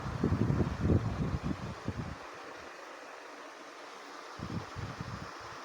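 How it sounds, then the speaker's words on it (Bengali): Strong sea wind at Puri beach buffets the microphone, with heavy rumbling gusts for the first couple of seconds, then a steadier, airy roar with a few more low thumps and no talking. "প্রচণ্ড হাওয়া সমুদ্রের"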